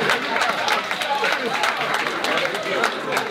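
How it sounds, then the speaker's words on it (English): An audience claps for a raffle prize winner at a cancer charity event, giving a moderate, continuous patter of hands with some crowd chatter mixed in. "Come on, round of applause, please."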